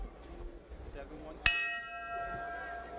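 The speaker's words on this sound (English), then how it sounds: "Bell sounds to bring the battlers into the center of the ring for round 2." Boxing ring bell struck once at the start of round two of a professional fight, a sharp clang ringing out with a long sustained metallic decay over faint arena murmur.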